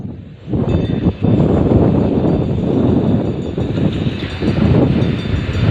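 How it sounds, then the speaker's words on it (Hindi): The 25 Up Bahauddin Zakariya Express, hauled by locomotive 8221, rolls into Bahawalpur railway station with a loud continuous rumble of wheels and carriages and some wind buffeting, close by and steady. "twenty 25 up Bahauddin Zakaria express arrival करते हुए बहावलपुर रेलवे स्टेशन पर"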